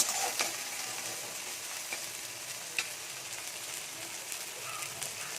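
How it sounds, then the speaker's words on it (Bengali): Chopped onions with slit green chillies and a pinch of salt sizzle steadily in a pan, a loud, even frying hiss with small crackles and faint stirring scrapes, no voices. "পেঁয়াজটা এখানে ভালো করে ভাজা হোক"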